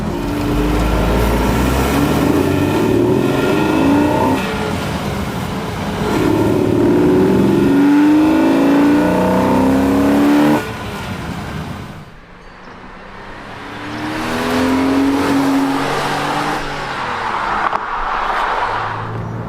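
Porsche Boxster S with a 3.2 flat-six driven hard, a loud engine roar rising and falling through repeated revs and gear changes, easing off near the middle before climbing again, no talking.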